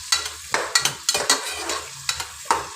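Onions frying in hot oil in a pan for a Tamil chicken drumstick kuzhambu, with intermittent stirring scrapes and soft sizzling bursts close by, no talking.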